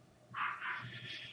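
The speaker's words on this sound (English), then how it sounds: "Sorry for the barking." Dog barks a few times close to the microphone, short yipping bursts in quick succession over about a second.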